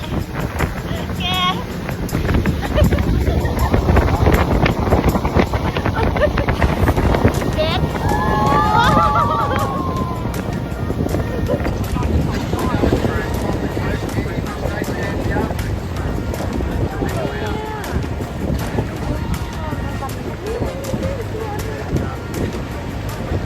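Tour boat circling on open sea during a seal-watching cruise in Australia, its steady engine rumble mixed with heavy wind buffeting the microphone and splashing water throughout, with people talking over it.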